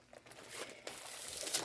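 A pad of cardstock paper with gold foil stars is handled up close. Soft crinkling and rustling build into a steadier papery scratch, quiet and without talk.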